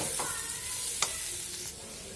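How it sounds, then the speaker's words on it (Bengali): Fried lentils stirred in a pan with roasted cumin powder, giving soft, steady scraping with a couple of sharper clinks of the spoon against the metal over a faint background sizzle. "দিয়ে কিছুক্ষণ নাড়াচাড়া করে নেব।"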